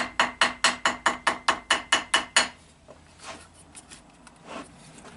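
Rapid, evenly spaced metallic taps of a ball-peen hammer on gasket material, about eleven in a row, followed by softer, scattered tapping and light handling noises.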